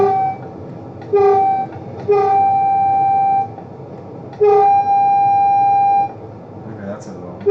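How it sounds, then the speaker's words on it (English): A train in a video game rumbles steadily while its horn sounds several long, wavering blasts separated by short gaps, loud and close over the low engine drone. "this train sounds like it's got a cold"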